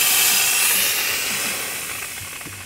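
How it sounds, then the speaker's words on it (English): A VX5000 steamer blasts a loud, continuous hiss of steam that tapers off slightly toward the end. "But I press the more steam and it really comes out."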